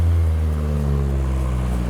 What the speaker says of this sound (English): We have a new arrival, a Civic track car